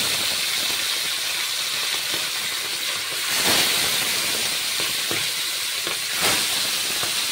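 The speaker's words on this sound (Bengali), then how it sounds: "আমি এবার এক এক করে মাছগুলো দিয়ে ভেজে নেব।" Tilapia fish pieces frying in hot mustard oil give a steady, broad hiss that stays fairly even, with a couple of brief louder surges partway through.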